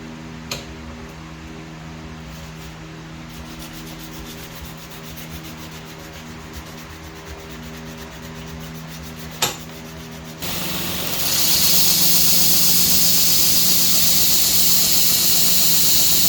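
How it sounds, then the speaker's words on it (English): Hand sanding a machete blade in the workshop: a steady close rubbing scrape under a constant mechanical hum, then a much louder, harsher continuous grinding sweeps in for the final seconds. "I gotta do some hand sanding in this area here"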